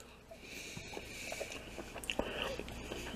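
Plant-based Impossible pork being bitten and chewed up close, with soft irregular crunches and wet mouth sounds at a quiet level.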